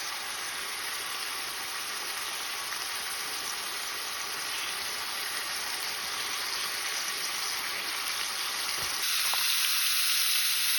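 Canned green beans fry in a pan at a campsite, a steady dense sizzle running unbroken throughout and swelling a little louder near the end.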